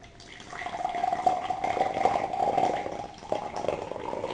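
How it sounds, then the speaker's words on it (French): Hot water pours from a thermos bottle in a steady, close, gurgling stream that runs for a few seconds, with a faint voice in the background. "Nous ouvrons la bouteille de thermos, oui. J'ouvre le clapet, oui. Et vous versez."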